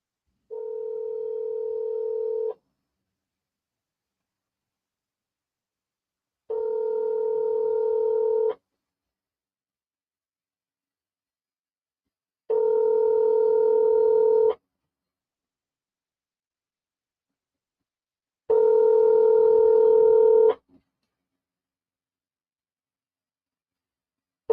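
A phone call rings on speakerphone: four long, identical ringback tones of about two seconds each, separated by roughly four-second silences, clear and moderately loud with no talking.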